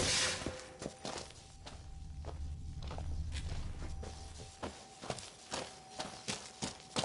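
Heavy stomping footsteps in The Witcher 3 thud in an uneven series of sharp impacts over a low ambient rumble, growing more frequent toward the end, with no talking.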